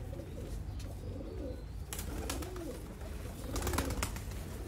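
Pigeons coo in a steady low throaty murmur from several birds close by, with a few brief wing flaps or rustles breaking through, and no talking.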